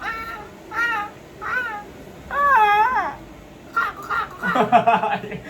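Crows caw in the Betrayal House video game: a series of hoarse, harmonic calls in separate bursts, followed by busier, overlapping sounds toward the end.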